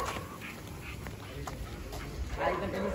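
Dogs bark intermittently during a street walk, a few short, fairly distant yelps and barks mixed into busy outdoor background noise while people talk nearby.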